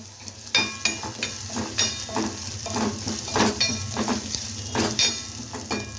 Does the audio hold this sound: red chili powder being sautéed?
yes